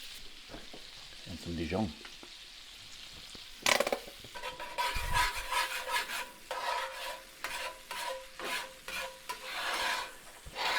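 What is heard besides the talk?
deglazing pan of pork chops with garlic, pepper flakes and Dijon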